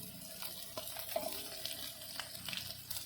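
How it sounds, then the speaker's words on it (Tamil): Onions and green chillies saute in a pan for a village-style mushroom biryani, a soft continuous sizzle with light crackles and a few stirring scrapes, close but quiet. "வெங்காயம் பச்சை மிளகா நல்லா வதங்கிடுச்சு."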